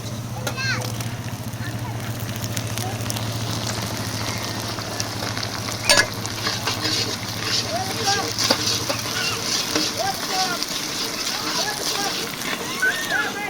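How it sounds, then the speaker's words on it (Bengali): Chopped tomato hits fried onion in a pan for a katla fish curry, giving a steady close sizzle with wet splattering and slosh, plus a brief clang, while a voice talks in the background. "পেঁয়াজটা সুন্দর করে ভাজা হয়ে গেছে এবার টমেটো কুচানোটা দিয়ে দিচ্ছি"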